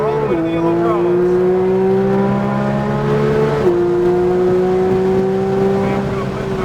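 A race car accelerates on a racetrack, its loud engine note climbing steadily toward full power with a brief dip and recovery partway, rising continuously under a voice talking over it.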